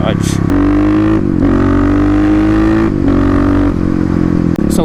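A Kawasaki KLX351 motorcycle engine with its airbox lid removed roars loudly and close in a mall parking garage, its pitch holding high and stepping up and down in a continuous revving drone.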